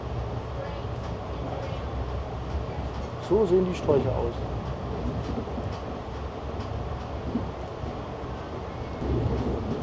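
Rumble of an old Amtrak passenger train riding between Portland and Eugene, Oregon, a steady low rolling drone heard from inside the car with a brief louder clatter midway, under a person speaking.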